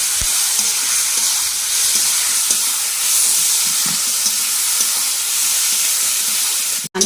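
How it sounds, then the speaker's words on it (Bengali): Spices and potatoes sauté in a pan for a Bengali rohu fish dish with drumsticks, giving a loud, steady hissing sizzle with faint stirring clicks throughout, ending in a sharp knock. "ভালো করে আলুর সাথে মশলাটা খুব ভালো করে কষিয়ে নেব"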